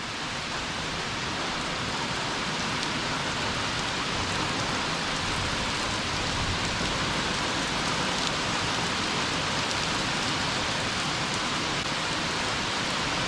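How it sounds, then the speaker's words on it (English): Steady, heavy rain falling throughout at a July off-grid weekend homestead shed, a dense continuous hiss with no pauses and nothing else standing out. "here I am hiding from the rain"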